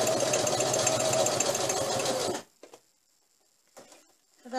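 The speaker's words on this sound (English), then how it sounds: "I'm going to straight stitch all the way down" A sewing machine runs steadily for about two and a half seconds, straight-stitching a fabric border in a continuous close whir, then stops, leaving a few faint clicks and handling sounds in near silence.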